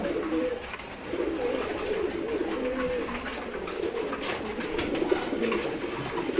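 Cooing pigeons, racers among them, fill a pigeon farm loft with a continuous chorus of low, wavering calls from several nearby birds, set against a constant airy hiss.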